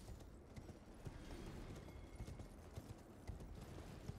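Horse hooves galloping in Elden Ring: Shadow of the Erdtree, a rapid, steady clip-clop rhythm of many dense thudding footfalls, close and continuous, with no talk over it.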